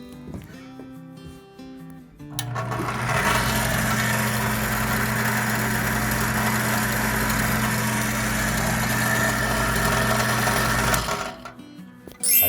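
A mini benchtop drill press, set to its highest RPM, spins up with a loud steady motor whine and hum that holds for about nine seconds before winding down, with no one speaking.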